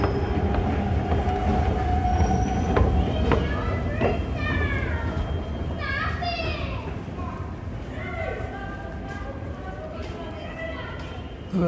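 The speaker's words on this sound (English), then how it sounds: "We'll get on a Production Way University SkyTrain. The next one that's arriving right now is for King George." A SkyTrain pulls into a station platform in British Columbia, with a loud rolling rumble, clattering wheels and rising and falling metallic squeals as it brakes, heard up close and continuing without a break.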